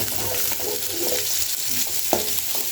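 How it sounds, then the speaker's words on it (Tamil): Sliced shallots, green chilies and curry leaves sizzling and frying in hot oil while being stirred, a steady close crackle with occasional scraping stir sounds and no talk. "2 பச்சை மிளகாய், கருவேப்பிலை இவ்வளவு போட்டு நல்லா வதக்கணும்"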